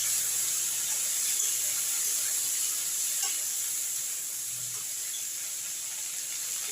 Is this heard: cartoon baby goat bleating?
no